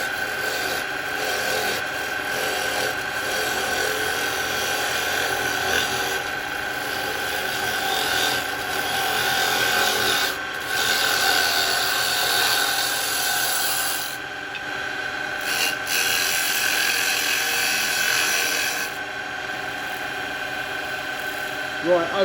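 A firewood piece spins on a woodturning lathe while carbide tools cut it, giving a steady whirring, rasping drone with brief dips as the tool lifts, close and loud throughout.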